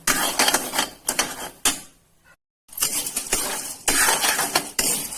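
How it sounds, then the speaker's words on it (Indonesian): Glutinous rice dry-roasting in a pan while being stirred, giving close, dense scraping and rustling bursts in an uneven rhythm, broken by a short quiet gap midway. "Selama kita sangrai, sering-sering kita aduk-aduk ya, supaya warnanya ini bisa merata"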